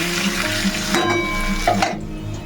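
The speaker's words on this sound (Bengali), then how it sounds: "আর এদিকে বসিয়েছি কাঁকরোল ভাজা" Pointed gourd sizzles steadily in hot oil, a close, continuous frying hiss with faint clinks and tonal hums in the background.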